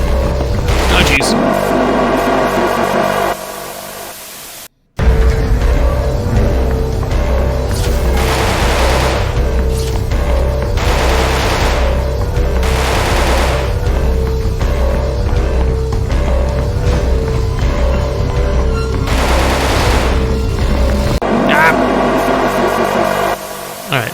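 Game gunfire in the CARGO demo, dense rapid bursts of shots and booms over a droning hum and loud music, continuing almost throughout, with a brief drop to near silence early on.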